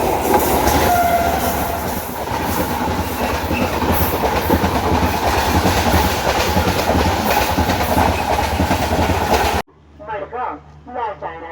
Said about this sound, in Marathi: क्रॉसिंग आहे ही बघा. ट्रेन पास होते.